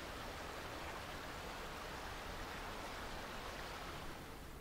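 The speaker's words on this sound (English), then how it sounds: "waterfall sounds. It's a little bit loud and repetitive, isn't it?" Steady waterfall ambience in StarCraft II, a constant even rush of falling water with no breaks, faint and uniform across the whole stretch with no voices.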